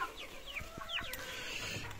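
Young chickens and roosters cluck and chirp softly nearby, a few short overlapping calls over quiet background noise.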